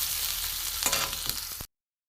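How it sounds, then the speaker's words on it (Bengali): Onions fry in a pan with a steady, loud sizzle, joined midway by a few stirring scrapes before the sound cuts off abruptly. "একটু ভালো করে ভাজবো পেঁয়াজটাকে।"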